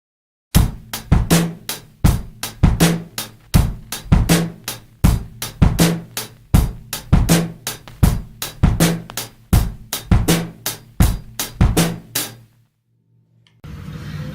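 Drum kit groove with bass drum and snare struck a sixteenth note apart, a steady repeating pattern of sharp, close hits played alone, then a brief pause before a quiet tail.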